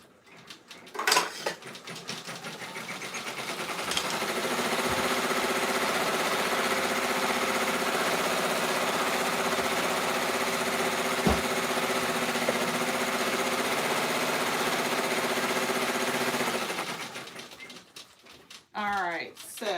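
An embroidery machine stitches the outer border of a bag tag, a steady mechanical whirring hum running for about twelve seconds between brief bumps and handling noises, with talking heard at the edges.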